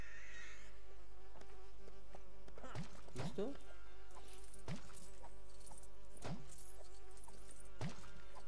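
Bees buzz steadily in the background of LEGO Lord of the Rings game audio, with brief sweeping tones and a voice speaking once.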